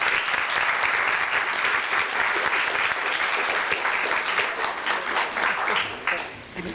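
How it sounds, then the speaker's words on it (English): An audience at an opera students' event applauds Dr. Mary Ann Ray, sustained full clapping from many hands that carries evenly before thinning out near the end. "So please, applause for Dr."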